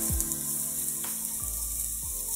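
Chillies sauté in oil in a pan while making chicken kothu roti, producing a steady hiss with a sharp tap or two, set against a strong tonal hum that dips and rises.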